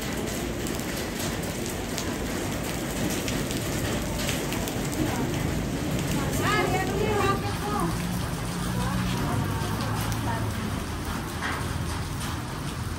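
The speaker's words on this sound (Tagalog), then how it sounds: "Kahit umuulan na oh." Steady rain falls on a surface throughout, a dense constant patter, while people talk nearby.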